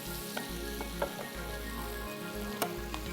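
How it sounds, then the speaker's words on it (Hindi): Ginger garlic paste frying in butter in a pan, a steady close sizzle throughout with a few soft clicks and pops. "इस स्टेज पे डाल देंगे इसके अंदर लहसुन अदरक का पेस्ट। ये भी थोड़ा फ्राई होगा।"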